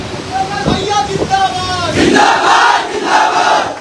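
Crowd at an outdoor political by-election rally in Phulpur roars and chants together, a dense, loud swell of many voices that rises after a brief lull and stays sustained to the end.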